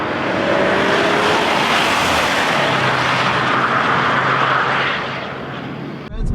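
A Volvo V60 T8 Polestar Engineered runs at full throttle down a track straight, a loud, sustained roar of engine and rushing air that eases off near the end.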